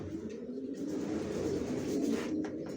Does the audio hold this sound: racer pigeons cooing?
yes